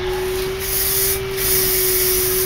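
A spray gun applies fire red paint to a Corvette in a steady, loud hiss, with a constant compressor or motor hum underneath and the spray swelling in two brief bursts.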